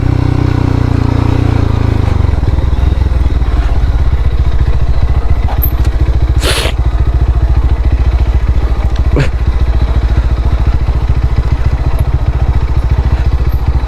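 A motorcycle rolls down a steep hill road in the Bandarban hills. A loud, close engine rumble carries continuous rattling and clatter throughout.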